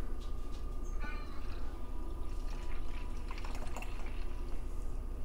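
Water trickles into a chemical cleaner bottle to flush out leftover cleaner, a thin dripping, splashing fill that sounds close and steady at a moderate level, with no talking.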